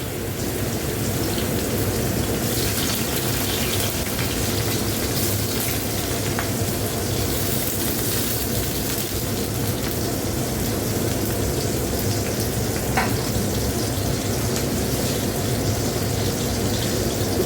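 Sliced bitter gourd frying in hot oil makes a dense, steady sizzle and crackle that runs unbroken throughout.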